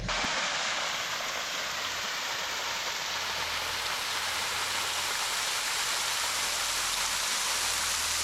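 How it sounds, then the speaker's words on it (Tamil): Aagaya Gangai waterfall in the Kolli Hills pours steadily, a dense, continuous roar of falling water that stays loud and unbroken throughout, with no voices. "ஃபால்ஸ் பார்க்கவே சூப்பராக இருக்குங்க"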